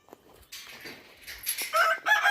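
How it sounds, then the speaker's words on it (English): Chickens cluck and a rooster crows close by a chicken coop on a small farm, the calls growing louder toward the end over quiet background noise. "We have chickens over there, and it's right by our chicken coop"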